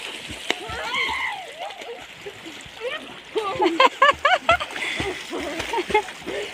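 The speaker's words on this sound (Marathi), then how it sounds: "कल्याणीला पोहायलाच येत नाही पण पोहत हो, आहे नाही का कल्याण पण पोहायला लागली आता बघा" Water splashes and sloshes as people swim in a farm well, with the splashing growing louder and choppier in the second half while several voices talk and call out throughout.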